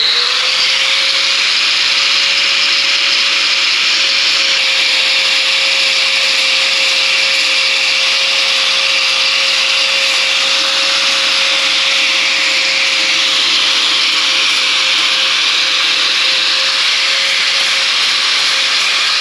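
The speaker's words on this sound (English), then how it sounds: "I'm using an 80 grit sander on a grinder, so that's what I'm using for this." Grinder fitted with an 80 grit sanding disc working on a part, giving a steady, continuous loud whine with a sustained tone and no pauses, running alone without talk.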